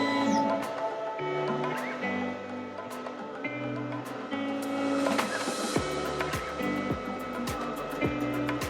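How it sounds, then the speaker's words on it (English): An Ultimaker S3 3D printer prints a figure, its stepper motors whirring in shifting stepped tones with rapid clicks and movement bursts, steady and close, no talk. "my Ultimaker S3 is currently 3D printing my very own bundled up Bernie"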